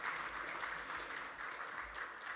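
Audience applause at an African leaders awards ceremony, a steady, dense patter of clapping that carries through the whole short stretch with only slight dips in volume.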